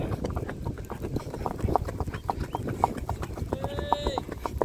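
A horse walking at a steady pace, hooves clip-clopping in a regular rhythm, with a voice talking over it.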